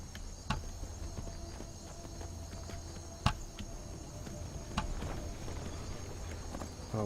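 Faint, irregular horse hoof clops in the video game Skyrim sound at a walking pace over a steady background hum, with a few sharper knocks standing out.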